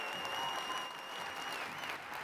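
An audience at the 43North 2021 Finals applauds, a dense steady patter of many hands filling the room, with a faint tonal hum underneath.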